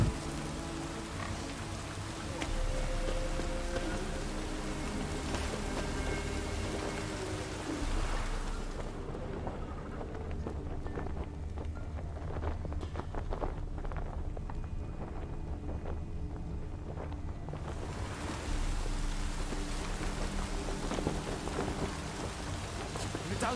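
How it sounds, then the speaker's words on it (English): Rain and rolling thunder in The Witcher 3: Wild Hunt, a steady downpour with low rumbles, briefly thinning midway before resuming at full strength. "Don't stop raining, my arse will rot off."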